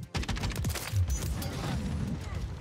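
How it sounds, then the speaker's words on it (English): Unsuppressed JAK Jawbreaker gunfire in a video game, heard as a loud burst of rapid shots that starts the clip and then rolls on as dense, booming fire. "it's not got a suppressor on it. And it's not sounding very suppressed."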